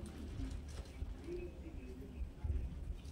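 Madrasi pigeons coo softly in short, low, throaty bursts, faint and close against a murmur of background noise.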